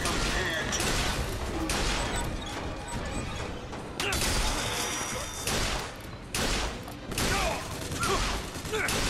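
Hand cannon fire in the shooter BioShock Infinite, several heavy booming shots with crashes and clattering amid loud, dense combat noise; someone talks over parts of it.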